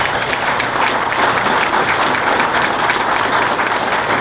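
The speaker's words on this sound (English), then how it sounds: "Let's just give her a round of applause" Loud, sustained applause from an audience at an award ceremony, a thick, even wash of many hands clapping without a break throughout.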